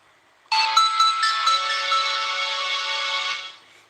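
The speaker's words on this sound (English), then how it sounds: "Yes, that startup sound is beautiful." Startup sound of a Samsung A870 mobile phone on US Cellular: a bright electronic chime melody begins abruptly, holds for about three seconds with a few pinged accents, then fades, close and clear with no talk.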